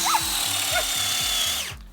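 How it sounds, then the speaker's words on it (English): A power drill whines steadily as it bores a tap hole into a maple tree, with a rhythmic chugging pulse underneath, then winds down and stops. "and then we'll drill"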